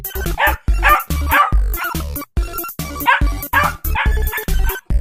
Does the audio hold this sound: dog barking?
yes